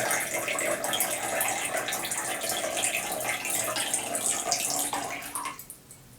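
Water pours steadily from a small-bore tap, a stainless-steel or plastic faucet, in a continuous close splashing rush that cuts off abruptly near the end, leaving near silence.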